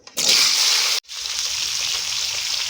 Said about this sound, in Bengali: এবার তেল গরম হয়ে গেলে আমরা আলুটাকে ভেজে নেব